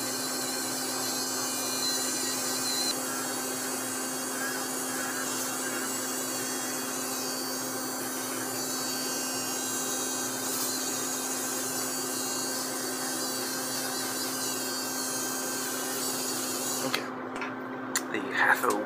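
A small rubber polishing wheel spins on a dental handpiece against a fixed metal orthodontic appliance. It gives a steady, continuous motor whine and hum that runs almost unbroken before stopping near the end, with a few brief scrapes.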